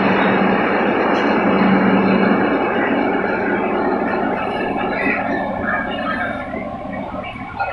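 Passenger train pulling into a station and coming to a stop on an Indian railway journey: loud, steady rolling rumble and hiss with faint brake squeal, easing slightly toward the end.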